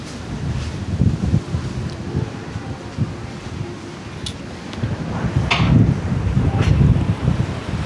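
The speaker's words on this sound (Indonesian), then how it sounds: "Anginnya kencang banget" Strong wind buffets the microphone in loud rumbling gusts, with ocean waves washing faintly in the background on the coast near Menjangan, Bali.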